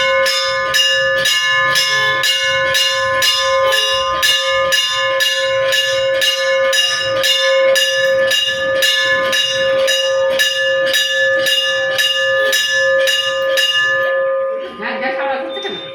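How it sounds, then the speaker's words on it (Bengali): A small bell rung repeatedly during a Hindu puja, a fast, steady ringing with a sustained metallic tone close by, carrying on for many seconds before stopping near the end. "ঘন্টা বাজাও।"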